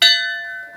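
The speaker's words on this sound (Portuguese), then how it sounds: "bater cada um dos sinos de 1 a 3 vezes, cada um deles de 1 a 3 badaladas, tu pega no badalo e joga o badalo assim" A chapel church bell in Alcântara, Maranhão, rung by hand-swinging its clapper, gives one loud, close strike followed by a long, bright ringing decay with steady harmonic tones.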